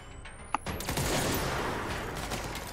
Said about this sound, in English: It's super fun to be shooting in midair